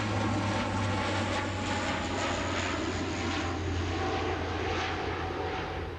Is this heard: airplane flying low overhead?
yes